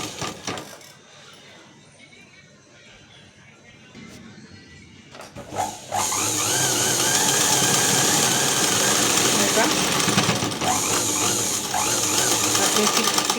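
Sewing machine stitching fabric while adding a tip to a garment, running in a loud steady whir after a quieter start with faint handling sounds and a few clicks.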